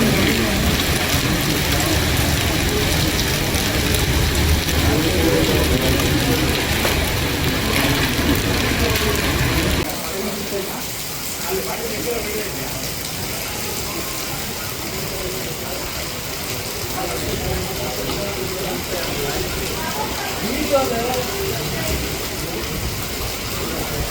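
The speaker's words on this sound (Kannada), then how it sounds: "ಬಿರುಗಾಳಿ ಸಹಿತ ಸುರಿದ ಮಳೆಗೆ" Heavy rain driven by storm winds lashes a city where a tree has fallen onto the district eye hospital, a dense, continuous roar that eases slightly partway through but keeps going steadily throughout.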